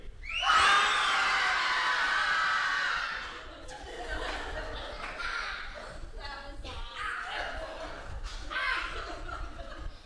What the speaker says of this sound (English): Can we all, just for a second, scream on 3?